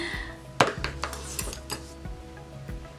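Borrowed metal silverware and a candlestick lifted off a set table, giving a string of bright clinks and chinks with one sharp, loud clatter early on and lighter scattered taps after, close by.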